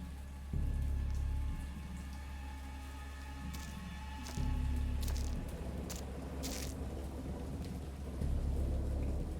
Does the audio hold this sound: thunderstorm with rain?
yes